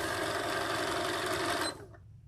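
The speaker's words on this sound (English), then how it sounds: "You just hit the button to make the machine go, and that's how you sew." A sewing machine runs at a steady, even speed for nearly two seconds, then stops abruptly, leaving faint background sound; no one speaks.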